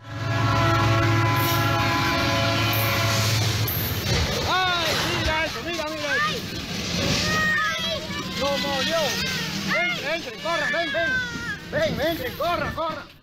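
A freight train passes a house beside the tracks in Rolândia, Brazil, opening with a long, loud multi-tone horn blast, then a steady clattering rumble of wagons, while children's voices and talk rise over the noise.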